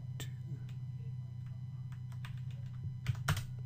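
Quiet computer keyboard typing sounds as scattered, uneven key clicks over a steady low electrical hum, with a couple of slightly louder taps near the end.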